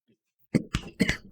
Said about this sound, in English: Oh, excuse me, I got some cough for some reason.